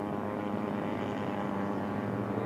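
A scale model aircraft engine at full throttle during takeoff, a steady loud propeller drone heard up close, droning without interruption and with no voices.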